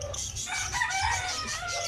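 A broadcock rooster crows loudly and close by in one drawn-out call, with other fowl faintly audible behind it.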